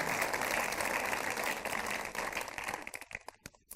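Church congregation applauding together, dense steady clapping that fades out into scattered individual claps near the end.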